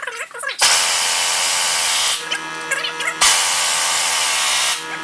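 Pneumatic impact wrench tightens front axle bolts on a 2008 Dodge Caravan, firing in two long, loud, rattling bursts split by a short pause and a brief hiss of air, close to the listener.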